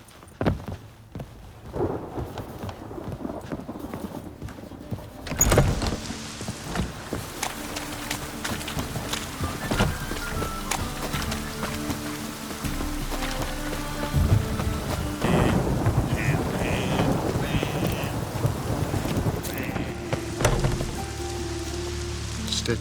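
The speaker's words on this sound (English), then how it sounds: "A storm, damn it." A thunderstorm in The Witcher 3 brings steady rain that builds in intensity, with a heavy rumble of thunder cracking in early on and more rolling booms later, with no talk.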